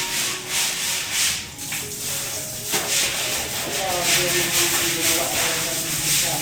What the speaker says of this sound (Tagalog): Kuskusin mo para ano. Sabayan mo ng walis.